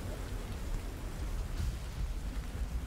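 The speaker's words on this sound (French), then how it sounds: "vous entendez encore la pluie tomber sur la tente à l'extérieur. Les orages gronder." Rain drums steadily on a tent with a low rumble of distant thunder, a dense, even wash of ambience with no voices.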